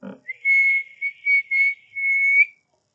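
A single sharp whistle blows in a few quick bursts, ending in one long sustained blast, loud and close with silence around it.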